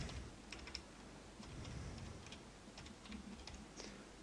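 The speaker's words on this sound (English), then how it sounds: "So all you literally do now is type." Fast, steady typing on a computer keyboard, close up, with light clicky keystrokes over a soft background hum and no speech.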